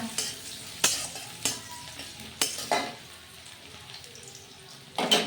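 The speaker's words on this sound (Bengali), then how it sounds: "পেঁয়াজ আর রসুনটা দিয়ে আমি একটু হালকা করে ভেজে নেব" Chopped onion and garlic fry lightly in a pan for a water spinach recipe. A soft sizzle runs throughout, broken by several sharp scrapes and clinks of a spatula stirring against the pan.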